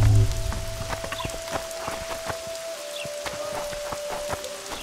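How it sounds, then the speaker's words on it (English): Steady rain patters and splashes in The Witcher 2, a dense continuous hiss of droplets with scattered sharper drips, close and even throughout. "I said it would rain."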